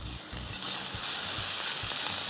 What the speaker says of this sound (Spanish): Esperar que la cebolla esté bien frita.